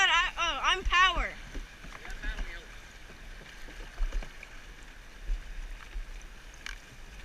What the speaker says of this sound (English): It's sort of hard to paddle since you're in like